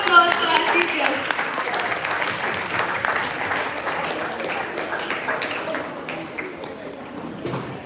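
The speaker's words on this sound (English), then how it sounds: "Please give a loud round of applause to our chief guest." Audience applause at a Model United Nations opening ceremony, honouring the chief guest: a steady, dense wash of clapping from a large crowd, sustained throughout and easing slightly toward the end.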